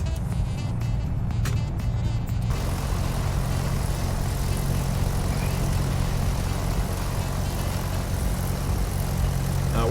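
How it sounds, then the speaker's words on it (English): A Mooney light aircraft taxiing in Microsoft Flight Simulator, a steady loud propeller engine drone that holds constant throughout, with a few faint clicks at the start. "We're taxiing a bit fast"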